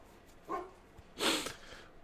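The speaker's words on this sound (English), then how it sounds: "You can hear the dogs." Dogs bark as a delivery arrives at a house, two separate barks that sound somewhat distant and muffled, with the second one louder and longer.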